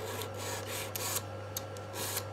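A nail file rasps against the side walls of artificial nail tips in short, quiet strokes repeating unevenly over a faint steady hum, without speech.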